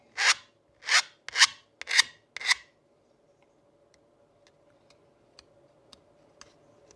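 A metal file rasps across a Jaguar XK8 window scraper part in five loud, evenly spaced strokes, followed by quieter scattered ticks and light clicks as the work is handled.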